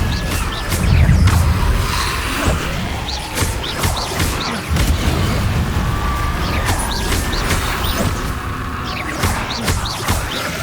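A Confringo blasting spell from Hogwarts Legacy, with a heavy low thump and explosive crash early on, followed by whooshes, clanks and mechanical rattles continuing throughout, with no talking.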